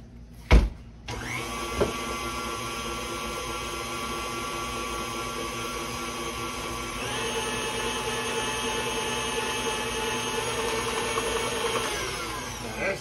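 An electric mixer whirs steadily through cherry cheesecake batter, a loud continuous motor drone lasting several seconds after a couple of bumps at the start, with its pitch shifting partway through and no voices.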